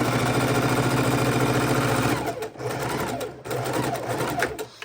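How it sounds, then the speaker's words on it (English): A sewing machine runs steadily and loudly close by, sewing orange 2.5-inch scrap strips onto a quilt log cabin block, with the motor whirring continuously and its pitch wavering slightly toward the end. "I'm going to go ahead and sew this all the way until I run out of my orange"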